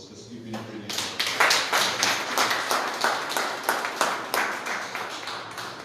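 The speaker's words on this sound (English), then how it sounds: "give yourselves a round of applause, because you've been brilliant" An audience at a public discussion on sustainable aviation claps in a brisk, even stream of close hand-claps, with voices mixed in underneath.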